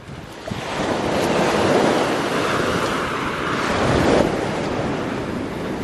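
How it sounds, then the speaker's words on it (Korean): Ocean waves wash onto the shore off Sokcho on Korea's east coast, a dense, continuous roar of surf with swelling peaks and some wind noise, close and loud. "속초 앞바다에서 듣는 어, 파도 소리"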